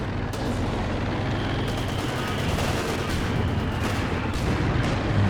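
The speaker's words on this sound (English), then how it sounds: "King Tiger with the spearhead just blasting away from long range" A dense, unbroken barrage from a Company of Heroes 2 battle as a King Tiger tank fires from long range and mortars land, producing layered booms and crackling gunfire throughout.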